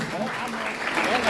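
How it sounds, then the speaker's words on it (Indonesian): An audience at a traffic-safety and anti-drug outreach session claps briefly, a short burst of many hands with voices murmuring underneath. "tepuk tangan."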